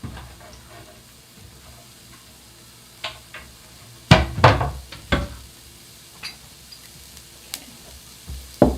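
Leftovers sizzle softly in a pan under a steady hiss, punctuated by sharp clanks and knocks of a utensil against the cookware.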